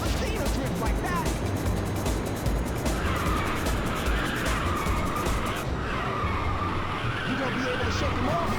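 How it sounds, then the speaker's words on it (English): A car drifting in Ridge Racer on the PSP, sustained loud tire squeal over a constant engine roar, with a speaking voice mixed in with the game sound. "I've never seen a drift like that."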